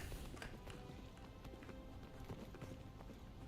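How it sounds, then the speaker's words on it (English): Horse hooves clip-clop in a quick, steady trot in the Minecraft Dungeons game, light repeated taps at moderate distance under low background noise, with no talk. "This is the worst jumping horse."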